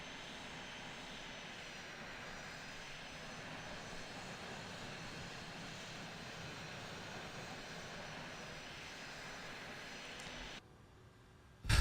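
An MD-80 Super 80 jet in Microsoft Flight Simulator drones with a steady engine roar and high whine, cutting off abruptly near the end followed by a brief thump.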